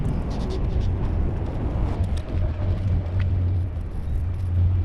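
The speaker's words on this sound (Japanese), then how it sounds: "大型トラックがこのように回りながら下っていき" Deep rumbling of a large truck winding down a spiral ramp near a bridge in Osaka, a steady, loud engine drone with broadband road noise throughout.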